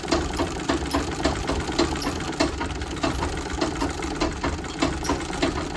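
A Singer treadle sewing machine runs steadily and close up, its rapid needle stroke making a continuous mechanical clatter with a faint rhythmic knock, no voices present.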